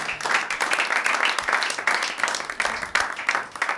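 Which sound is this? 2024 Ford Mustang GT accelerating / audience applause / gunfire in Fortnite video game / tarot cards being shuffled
audience applause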